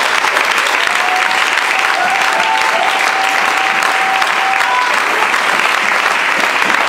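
A church congregation breaks into steady, dense applause that fills the space without a break, with faint voices scattered through the clapping.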